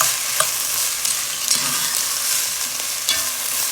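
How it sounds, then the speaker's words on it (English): Onions seasoned with flaky salt and pepper are stirred in a pot for braised oxtails, giving a steady close scraping and soft sizzle with a few sharper clinks of the utensil, and no talk. "Get that stirred."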